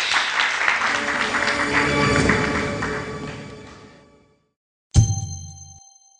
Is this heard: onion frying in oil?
no